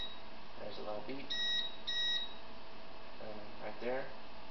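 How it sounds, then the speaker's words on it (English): Two short electronic beeps from an Elegoo Mars MSLA 3D printer sound close together, high and clean, while a person talks quietly before and after. "There's a little beep"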